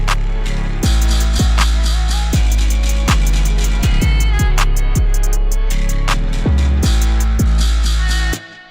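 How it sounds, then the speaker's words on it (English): A raw, undistorted 808 bass plays within a hip-hop beat being produced, each deep booming hit decaying under crisp hi-hats and percussion in a steady loud groove, with no voices. "And this is the regular raw 808,"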